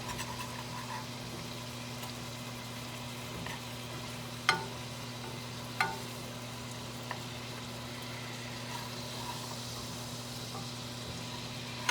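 Bacon sizzles in a pan with melted butter, a steady soft frying hiss with a low constant hum underneath and a couple of brief clicks, no talking.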